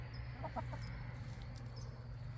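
A few soft, low clucks from chickens come in a quick cluster over steady background hum, faint and somewhat distant.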